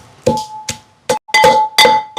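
Coconut sambal pounded in a mortar with curry leaves, heard as about five hard, ringing strikes at an uneven rhythm, close and fairly loud with short silences in between.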